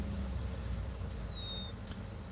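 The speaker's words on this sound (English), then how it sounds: "Oh, there goes the other school bus." A school bus passes in Northern California: a steady low engine rumble with an air-brake-like hiss, holding even throughout, with a thin high whistle drifting through the middle.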